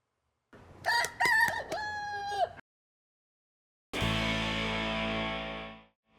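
A rooster crows loudly and close by, a rising and falling cock-a-doodle-doo, followed after a short pause by a second, longer harsh crow.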